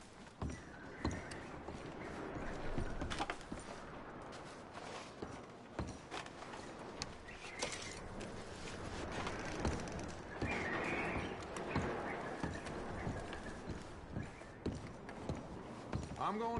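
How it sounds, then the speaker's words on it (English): Horses in Red Dead Redemption 2 clop along with scattered hoof thuds and an occasional whinny, set against a steady outdoor backdrop with voices talking over it. "I'm going to start packing the horses."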